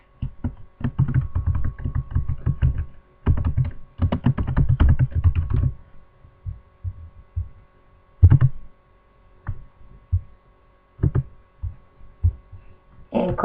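Someone types on a computer keyboard to rename a behavior in a classroom app, with quick bursts of close, clicky keystrokes that thin out into a few isolated taps and pauses.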